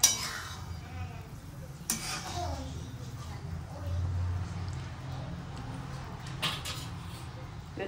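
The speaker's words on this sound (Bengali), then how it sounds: "একটু নাড়া দিয়ে দিই।" Mutton kosha being stirred in a pot, with soft scraping and occasional metallic clinks of a spoon against the vessel over a steady background hum, fairly faint and close.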